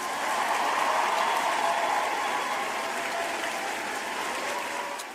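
A round of applause from a crowd, heard as a steady, moderately distant wash of clapping that holds evenly before tapering off at the end.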